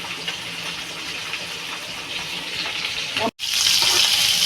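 Tengra fish fries in hot oil in a pan, a steady close sizzle that briefly cuts out as the fish is turned, then bursts back louder and hissier.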